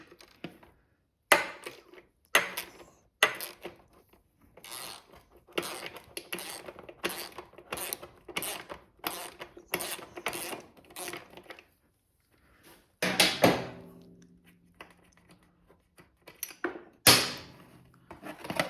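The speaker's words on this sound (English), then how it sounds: "I already got a wrench on the other side there." A wrench works at a bolt while a wrecked Harley Sportster is torn down: a run of sharp metallic clicks and ratcheting taps in quick bursts, with pauses and a couple of heavier clunks, close and fairly loud.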